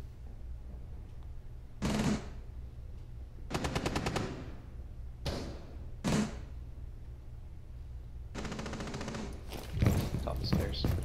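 Bursts of automatic gunfire in Rainbow Six Siege shooting through a Castle window barricade, five or six rapid volleys separated by short pauses, loud and close with debris clatter after the last burst.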